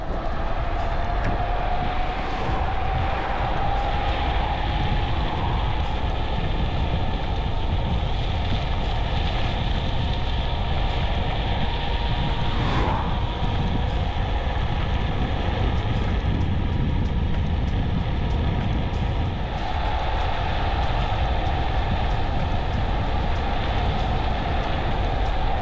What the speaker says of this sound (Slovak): Teraz sme v premávke, aby sme vyskúšali, koľko zvládne kolobežka maximálne.